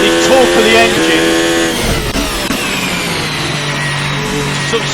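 Ferrari F1-75 Formula 1 engine in the Assetto Corsa racing game, a loud high-revving whine climbing in pitch, cutting back at a gearshift, then dropping to a lower sustained drone as it pulls again.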